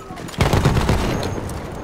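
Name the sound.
gunfire in the video game Battlefield 1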